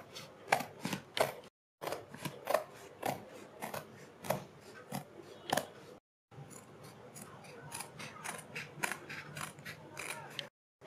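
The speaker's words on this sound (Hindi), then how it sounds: "ये निशान लगाने के बाद हम इसकी कटिंग कर लेते हैं।" Scissors cut kurti fabric along a marked neck design, making close, rhythmic snips in quick runs, broken by two short pauses.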